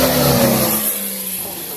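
A high-pitched Mercedes Formula One car with a 1.6-litre turbocharged hybrid power unit revs loudly at the Goodwood Festival of Speed, then fades as it passes, a brief sharp whine trailing off.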